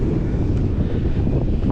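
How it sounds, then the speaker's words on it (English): Wind buffeting a microphone on the Yorke Peninsula coast in South Australia, a constant low roaring rush that fills the whole short stretch without pause, loud and close. "There's a little bit of wind happening"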